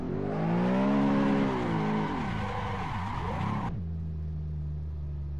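A car drifting under throttle in the racing game Assetto Corsa, its engine revving loud and steady with wavering pitch as the tires squeal through the slide, then cutting to a lower, flat drone.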